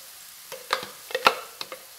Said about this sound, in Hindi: मसाला अच्छी तरह भुन रहा है